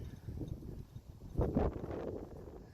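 Wind blows across an open cemetery on a very cold day, faint low rumbling gusts buffeting the microphone with one brief stronger swell midway.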